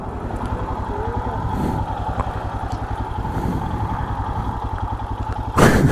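A BMW motorcycle engine runs steadily on a narrow trail, its low, pulsing drone continuous throughout, with some rattling clatter and a louder burst of noise near the end.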